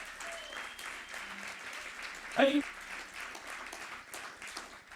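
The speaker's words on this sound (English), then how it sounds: "Round of applause for that." Soft applause from a conference audience at a policy event, with a brief louder burst near the middle and some talk audible over it.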